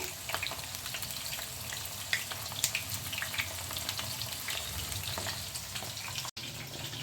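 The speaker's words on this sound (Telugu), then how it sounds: "అన్నింటినీ ఇట్లా ఒక సెక్కెళ్ళి కాలి కాలిన తర్వాత మరొకెళ్ళి తిప్పుకుంటూ ఫ్రై చేసుకుంటాను" Stuffed bitter gourds fry in oil in a pan, a steady close sizzle with occasional pops and a faint clink as the pieces are turned, no voices.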